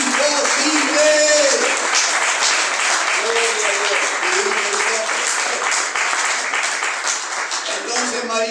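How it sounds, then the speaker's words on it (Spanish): A church congregation applauds steadily for about eight seconds during a Spanish-language sermon, broadband clapping with a voice or sung tones rising and falling over it. "Se anima un aplauso al Señor."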